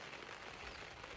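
Rain falling on a tent while camping in Wyoming, a soft continuous patter and hiss, faint and steady, with no voices.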